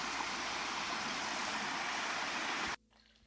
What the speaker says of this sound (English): We're stopping here at this spring